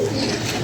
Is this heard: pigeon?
yes